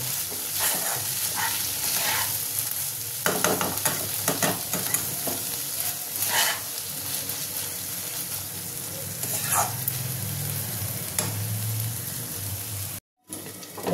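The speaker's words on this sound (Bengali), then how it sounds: "হালকা নাড়বো।" Dried fish bhorta (shutki) is stirred as it fries in a pan, with a steady oily sizzle broken by repeated scraping strokes and a brief watery splash, all close by with no talking.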